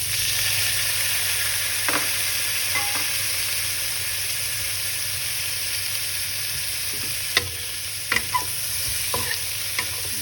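Prawns and vegetables sizzle steadily while stir-frying in a pan, a continuous frying hiss with occasional sharp clinks and scrapes of a utensil against the pan, close and alone without talk.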